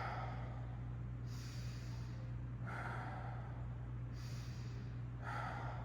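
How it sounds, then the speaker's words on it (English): Exaggerated deep breathing during low back traction: four slow, faint breaths in a steady rhythm, each rising and falling, close to the microphone over a low hum. "So really exaggerating that breath, that can help drive some blood flow."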